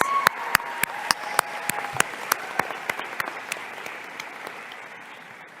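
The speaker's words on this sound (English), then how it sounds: "let's give applause to your parents, family, everybody, friends" An audience at a nursing school white coat ceremony applauds parents and family, a soft wash of many hands with a few distinct sharp claps standing out, gradually fading away.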